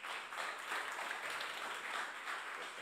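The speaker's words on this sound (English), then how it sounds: "give a round of applause to Daniel Lumi" A conference audience at ETH Prague applauds a speaker introduced for a talk on zero knowledge proofs, a dense, steady patter of many hands clapping throughout, fairly distant and soft.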